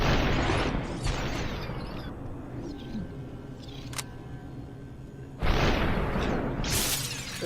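Enemy shattering in Superhot after a headshot, loud bursts of crashing and splintering, one at the start and another near the end, with quieter rumbling and a sharp click in between.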